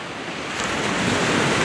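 Ocean surf rushes in a continuous broad wash that swells louder toward the end, close and steady with no voices.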